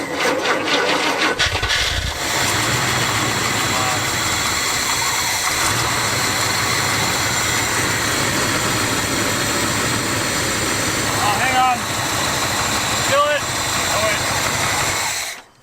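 A GMC 454 big block V8 coughs into life after cranking and keeps running with a loud, rough, steady roar for many seconds, fuel-starved, close by with no talk over it.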